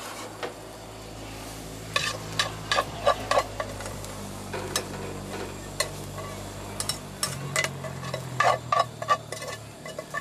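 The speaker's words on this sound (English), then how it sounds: "we've browned up the onions and the bacon there, just until they're nice and clear and that sort of stuff there. And we'll just take them out of the saucepan." Browned onions and bacon are scooped out of a saucepan with a utensil, making irregular scraping taps against the pan over a soft low sizzle, close and fairly quiet.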